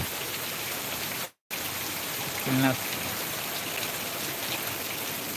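Steady heavy rain hisses and patters nearby in Trichy, with a brief dropout and a faint voice-like tone rising out of the wash.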